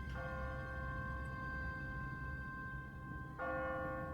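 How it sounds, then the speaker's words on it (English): An automatic church bell on a timer rings with a sustained, resonant tone that hangs and decays, then a fresh strike renews it near the end, heard at a moderate distance over low background noise. "No one's ringing that bell. It's automatic. On a timer."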